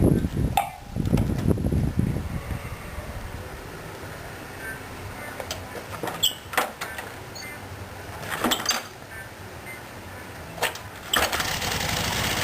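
A 1956 Ziegler fire brigade water pump driven by a VW industrial engine, low on fuel, is cranked and tried. Brief bursts of engine noise and rough turning come amid clinks and scrapes of handling, close up and uneven, with no speech.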